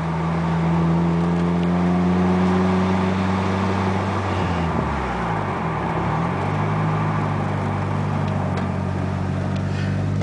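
A Nissan S14 240SX with an SR20DET engine drives through a neighborhood, heard from inside as a steady engine drone that dips and climbs as the car shifts, with no talk.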